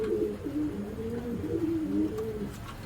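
Giribaz pigeons on a farm coo steadily and close, in a continuous run of low, throaty, rolling calls with no one talking.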